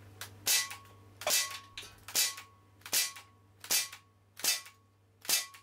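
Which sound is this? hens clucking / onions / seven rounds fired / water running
seven rounds fired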